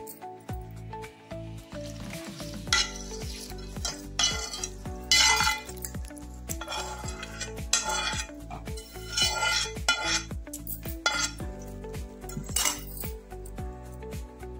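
Metal utensil scraping and clinking as a spice tempering is stirred in a pan for curry-leaf pickle, with a soft sizzle underneath, repeated stirring strokes throughout, close and fairly loud, no talking.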